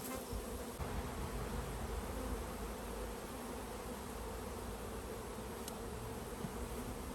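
Honeybees buzz in and around a swarm trap set up outdoors in Michigan, a dense continuous droning hum with no pauses, steady and fairly close throughout, with no voices.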